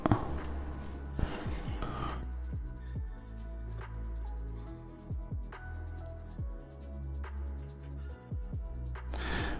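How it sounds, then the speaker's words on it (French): A metal screw is driven to fix a part onto a die-cast Altaya model car. Close, quiet rubbing and rasping of the screwdriver turns in short repeated strokes follows an initial handling clatter, with no talk. "Et on va venir la visser là."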